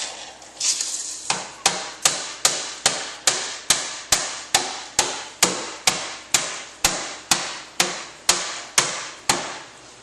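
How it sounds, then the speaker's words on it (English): A hammer strikes metal in a steady rhythm, around twenty sharp ringing taps close by, evenly paced with no talking, while fitting hyfax on a Nytro. "I'll grab my hammer. Give her a few taps."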